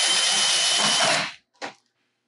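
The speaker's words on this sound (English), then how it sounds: "So taking the power drill," A power drill drives a self-tapping screw into an aluminium C-beam during a MiniMill build: one loud, steady whirring burst lasting over a second, then a short second spin after a brief pause.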